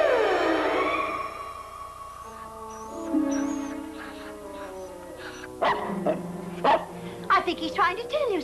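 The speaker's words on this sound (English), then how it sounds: "Reba, when are you going to feed this dog?" A hungry pet dog in a 1960 Jerry Lewis comedy film barks and yips in a rapid burst of short, close barks near the end, after a stretch of talking voices.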